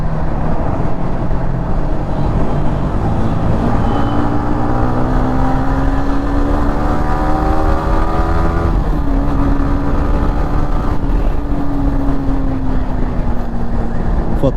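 A Yamaha motorcycle cruises at about 70 km/h on a ride from Pune to Lonavla, its steady engine drone and rising, falling gear whine continuous over heavy wind rush, with a faint voice underneath.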